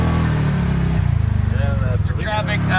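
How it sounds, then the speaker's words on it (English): An off-road vehicle drives fast on a trail near a lake, its rumbling engine pulsing under excited voices that talk over it. "I'm driving now, and we're going super fast"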